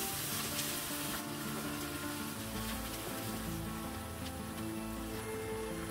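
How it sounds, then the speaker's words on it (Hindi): Ground ginger, garlic and green chilli fry in hot oil, a dense, continuous loud sizzle with steady crackle close by and no speech. "अब हम इसमें ग्राइंड किया हुआ अदरक लहसुन और हरी मिर्च इसमें डाल देंगे। दो मिनट के लिए इसे भी अच्छी तरह से फ्राई कर लेंगे।"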